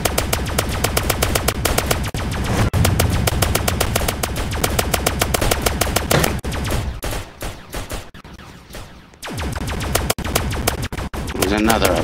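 Rapid automatic gunfire in the Roblox video game while shooting zombies in the head, a loud, close, continuous stream of shots that drops off briefly near the end and then resumes, with a player's voice talking over it.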